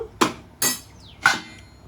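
A metal lid is set onto a pot of boiling basmati rice, giving three separate sharp clanks and clinks spaced across a short, close, quiet moment.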